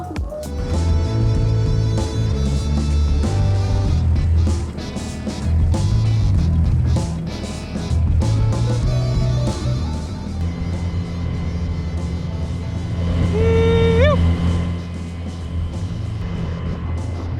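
The small boat Little Momo motors across a bay at speed, a loud, steady engine drone with rushing water, plus a brief rising whistle-like tone partway through.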